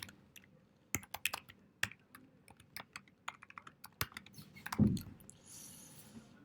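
Typing a command on a computer keyboard, a quick irregular run of crisp close key clicks, soft overall, with a short rustle near the end and no speech.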